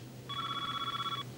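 An old landline telephone in a large house gives one electronic ring burst lasting about a second. It sounds close and clear over a low room hum, with no talk.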